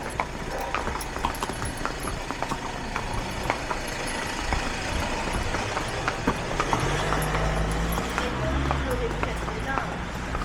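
Horse hooves clip-clop steadily along a road as horses are led beside traffic, with traffic rumbling nearby and occasional voices in the background.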